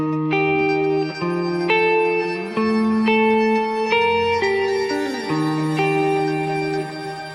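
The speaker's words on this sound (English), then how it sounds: "And with the crystal delay." An electric guitar plays slow sustained notes through a Kemper Profiler crystal delay effect, with shimmering repeats and a long, reverberant tail blending one note into the next, alone and without talk.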